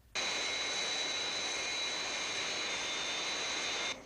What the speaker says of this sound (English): The new Fireflash Mach 6 atomic airliner is in distress at London Airport.